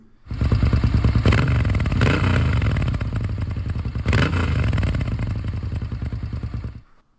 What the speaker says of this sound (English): I swapped it out with this Dominator exhaust pipe, which made it sound a lot cooler too